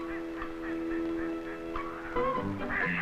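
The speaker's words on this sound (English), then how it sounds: "It's spring and these mallards have started their courtship." Mallard ducks calling in spring courtship at a cattail marsh, a run of repeated honking, quacking calls close by, growing louder and busier toward the end with no talk.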